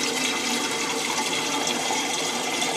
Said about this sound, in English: The toilet keeps trying to fill itself up.